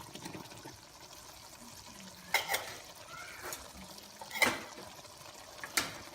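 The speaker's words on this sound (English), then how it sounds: "And we'll give it a stir" A spoon stirring carrots and potatoes in a pot of catfish kaldereta, a few soft scraping knocks against a quiet simmering background.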